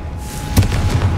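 Confringo spell explosion in the Hogwarts Legacy video game: a single sharp blast cracks out of a steady low rumble and leaves a booming, rolling tail, loud and close with no talk.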